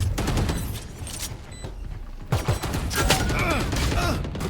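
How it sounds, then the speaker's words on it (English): Gunfire in the game Valorant, shot through a wall at an enemy, comes as a dense burst of sharp cracks over steady game noise, with a second flurry of shots and mechanical clatter toward the end. "did you know you can wallbang enemies from here?"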